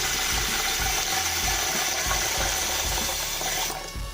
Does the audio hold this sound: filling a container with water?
yes